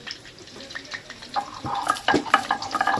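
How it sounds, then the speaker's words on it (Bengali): Potatoes frying in oil in a home kitchen for a Kashmiri-style aloo dum, giving a soft sizzle with scattered stirring clinks and scrapes that grow busier toward the end, close and fairly quiet, with no talking. "আলু ভাজা এখনো চলছে এখনো লাল হয়নি"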